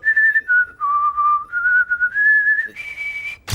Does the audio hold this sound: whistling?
yes